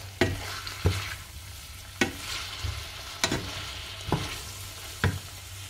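Mashed beetroot and chicken mixture with garam masala and dry coriander stirred in a pan, a soft continuous sizzle broken by about six sharp spoon knocks and scrapes against the metal at irregular intervals.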